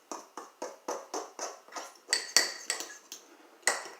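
A spoon or utensil stirs keto cookie batter in a dish, knocking against the sides in a steady run of about a dozen clinks and scrapes, close and moderately loud, with no talking.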